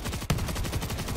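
A big gun fires in the World War Z video game as a rapid, steady burst of close, loud shots with one stronger blast partway through.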